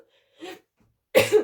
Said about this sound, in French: en plus je tousse là-dessus